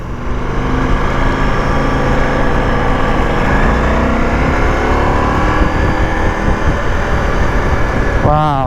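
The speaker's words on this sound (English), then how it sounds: "Gear changes, I'm not used to them because I haven't done many today." Ducati Multistrada V4S motorcycle on a touring ride: a loud, continuous engine roar with wind and road noise, and the engine pitch shifts near the end as it changes gear.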